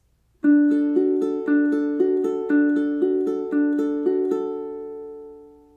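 A plucked ukulele plays the steady, repeating fingerpicked pattern for a song, bright notes evenly spaced, before the last notes ring out and fade.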